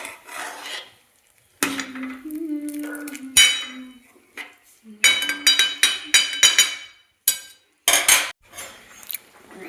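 Utensils clink and scrape in a pot of mixed vegetable curry with tomatoes, pigeon peas, potatoes, coriander and chilies. Close, intermittent metallic clatters come in short bursts separated by quiet gaps.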